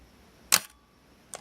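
A Minolta X-700 35mm film SLR fires its shutter at a slow speed: a sharp mechanical click, a short pause, then a second fainter click closing the curtain, recorded up close with no talking.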